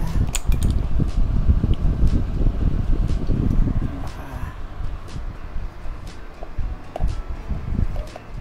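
A repaired electric palm sander runs on a test, a loud whirring motor buzz for the first few seconds that then drops to a quieter hum and slowly fades.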